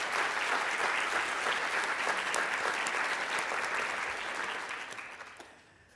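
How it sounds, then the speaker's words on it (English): A museum conference crowd gives a round of applause at a closing address, full steady clapping from a large audience that gradually fades out toward the end. "I think we should give them a round of applause."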